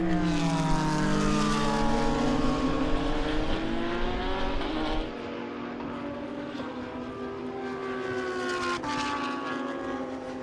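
An LMP3 Ligier race car roars past at Slovakia Ring, its engine loud and steadily rising in pitch before it drops away into a distant drone. A brief gearshift blip follows.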